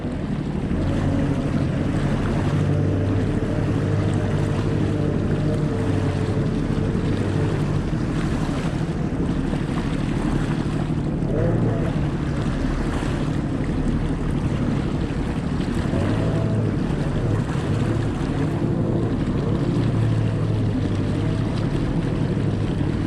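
A Sea-Doo Spark personal watercraft runs across open water, its engine a steady drone blended with continuous splashing, wave wash and heavy wind buffeting on the microphone, with no voices.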